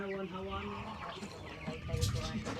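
Chickens cluck and call on a backyard farm in Barili, Cebu, close by, while a person talks over the birds throughout.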